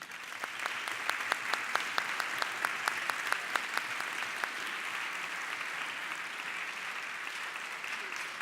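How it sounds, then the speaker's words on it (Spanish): An audience at a conference on artificial intelligence gives a sustained ovation for a speaker named Andrés, a steady, even wash of clapping with a few sharper claps standing out early on. "Esa ovación para Andrés."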